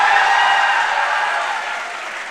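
Clapping from an audience at a college MCA induction programme, a dense crowd applause that starts loud and slowly fades over a couple of seconds, with no talking.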